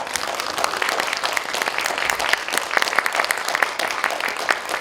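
Audience applause at a literary festival concert in Yongin, Korea, as a classical piano trio of piano, cello and violin walks onstage; steady, dense clapping from many hands throughout, fairly even in loudness with no voices.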